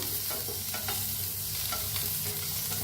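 Sliced onions stirred and fried in a kadhai, with a steady close sizzle and scraping spoon strokes throughout, no voices.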